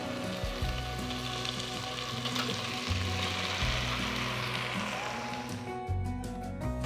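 Chicken pieces for gongura chicken biryani sizzle and fry steadily in a pan, a loud continuous crackle with low tonal hum beneath, no voices.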